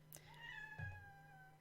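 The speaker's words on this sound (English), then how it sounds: "That's my cat, Figment." A pet cat gives one drawn-out meow indoors, faint and close, heard alone without talk.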